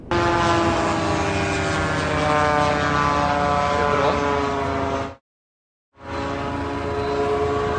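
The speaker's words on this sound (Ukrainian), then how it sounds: "У регіон завітали невідомі безпілотники" Loud, steady buzzing drone of propellers with a tonal whine, briefly cut off by a short silence before resuming, close and sustained.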